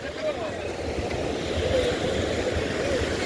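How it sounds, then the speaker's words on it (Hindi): Strong sea waves breaking on a beach at Puri where fishing boats are launched, a continuous rushing wash of surf and wind roar at moderate loudness. "पानी की लहरें काफ़ी ज़्यादा तेज़ हैं"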